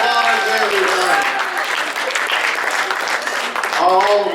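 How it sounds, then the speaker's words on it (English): Audience applause at a chamber of commerce recognition banquet, a steady wash of clapping filling the room throughout, with voices and cheers mixed in at the start and end. "Give them a big round of applause"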